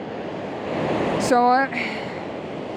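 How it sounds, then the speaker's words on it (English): Powerful ocean waves rolling in on a rocky Northumberland beach give a steady, broad roar of surf, with a person speaking briefly over it near the middle. "the waves are coming in so powerfully"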